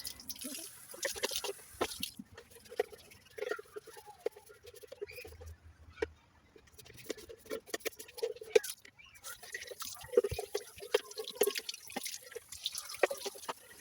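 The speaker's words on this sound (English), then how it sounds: "So running the water through again, and there goes the blockage, and that's paint and water running through there." Water and flushed paint run and spurt through the nozzle of an Ozito paint spray gun being cleaned, with irregular drips, splutters and trickles as a blockage clears, close and fairly quiet.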